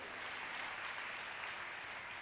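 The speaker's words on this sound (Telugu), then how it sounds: "కొట్టు చప్పట్లు ఒకసారి." A church congregation claps together, a faint, distant, continuous patter of many hands holding at an even level throughout, with no voices over it.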